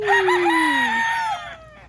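A single gamecock crows loudly and close, one drawn-out call of under two seconds that falls in pitch toward the end.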